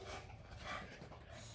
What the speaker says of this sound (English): You don't quit barking at me.